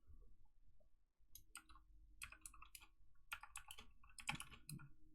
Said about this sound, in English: I know you hear my keyboard, so I apologize.